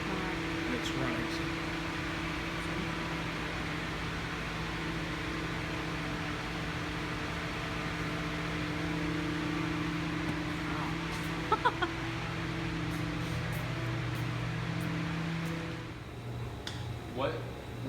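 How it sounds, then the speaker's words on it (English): Anchor Brewing bottling line running at about 420 twelve-ounce bottles per minute, a steady loud mechanical drone with constant hum and faint clinking, slightly changing toward the end. "This bottling line is where we do all of our 12-ounce bottles, and we fill about 420 bottles per minute. And it's running."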